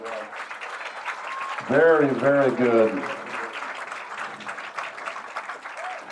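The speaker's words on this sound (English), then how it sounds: "Big applause" Audience applauding at a police K9 dog exhibition, a short burst of clapping lasting about a second and a half, heard under an announcer's voice speaking over it.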